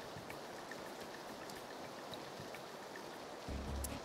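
Soft, steady rain hiss with scattered droplet ticks in the video game PUBG, fairly faint and continuous, ending with a brief low rumble.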